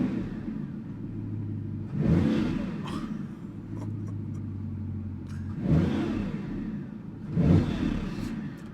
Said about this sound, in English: the rumbling of the W16 that's sitting right behind the driver is just crazy